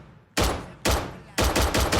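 Pistol gunshots from a FiveM video game sound pack, several loud close reports in quick succession, each with a sharp attack and a ringing decay, the last ones coming rapid-fire.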